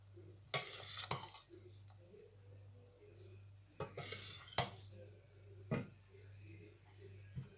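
Potato chicken soup being ladled into a dish, with metal clinks and scrapes of a spoon against a pot and bowl in scattered bursts, over a steady low hum, with quiet pauses between.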